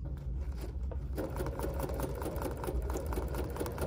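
A Bernina sewing machine stitches a meandering stipple quilting pattern with matching top and bobbin thread, its motor humming steadily and the needle chattering in a fast, even rhythm after a brief quieter start.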